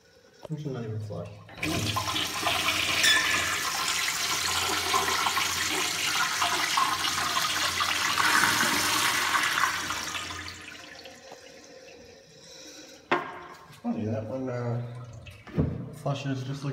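An American Standard toilet in a 1971 state park restroom flushes with a loud, sustained rushing roar of about eight seconds, then quiets to a trickling refill, with someone talking before and after.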